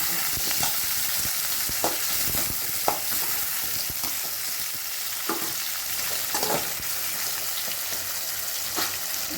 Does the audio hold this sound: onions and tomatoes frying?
yes